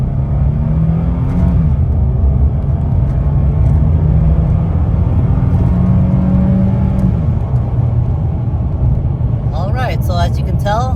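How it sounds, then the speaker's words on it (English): A car engine strains loudly at full throttle accelerating uphill, a steady, heavy roar that climbs in pitch, close and constant, with a brief voice at the end. "we're just gonna floor it up this hill"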